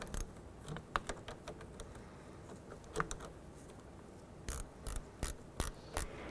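Nut being tightened on the positive battery terminal of a 2006-2011 Honda Civic: faint scattered ticks and small metallic clicks, then a quick run of sharper ratchet clicks near the end, quiet and close with no voices.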